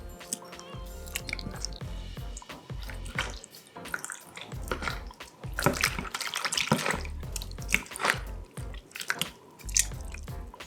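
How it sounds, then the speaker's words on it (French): Pieces of focaccia pre-ferment dough being broken up and dissolved in water, with repeated wet splashing, squishing and sloshing in a bowl, close and moderately loud, with no talking. "Donc ça, on va l'intégrer dans l'eau et la dissoudre."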